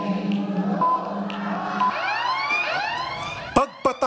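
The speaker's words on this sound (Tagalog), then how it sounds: "Pagpatak ng alas 4 ng hapon, umalingaw-ngaw ang sirena." A siren marks the 4 pm start of an anti-dengue campaign, wailing in repeated rising and falling sweeps, fairly loud, and ending in a few sharp whoops.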